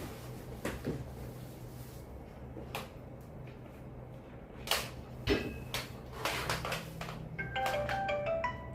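A phone ringtone sounds in a room with a steady background hum, a series of bright repeating melodic beeps rising near the end after some clicks and knocks.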